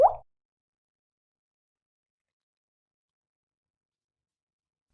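A piece of 95% cacao chocolate drops into a cup of chaga tea with a single short, soft plop at the very start, followed by silence.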